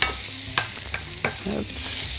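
Rhubarb sweating gently in a pan, a soft frying sizzle with a few sharp utensil clicks and scrapes against the pan, close and without talk.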